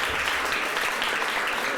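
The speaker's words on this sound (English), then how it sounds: "We got one applause" A short burst of audience applause at a leadership award presentation, a dense patter of hand claps that stays fairly even for under two seconds.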